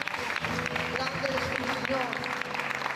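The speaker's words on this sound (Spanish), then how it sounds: "Te coronamos y te exaltamos con un fuerte aplauso." A congregation at an evening prayer event in a government house claps in praise, a busy wash of applause mixed with voices and a held musical tone underneath.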